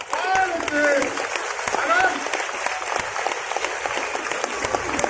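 An audience at a Hindi kavi sammelan poetry event claps, a crisp burst of applause that is loud at first and then thins into scattered claps, with a voice talking over it.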